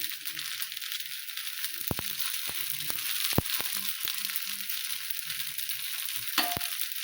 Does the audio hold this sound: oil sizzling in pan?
yes